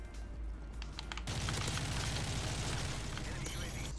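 Concussion grenade detonating in Modern Warfare 3, a sudden loud burst after a quieter stretch, followed by a rough, crackling rumble that lingers to the end.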